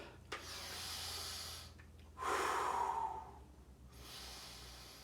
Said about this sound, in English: Let's do a little bit of breathing first.